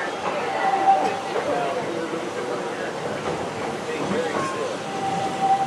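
Disney's Magic Kingdom Railroad train rolling along its rails through wooded park scenery, a steady rumble with faint clickety-clack and occasional squeals, heard continuously throughout.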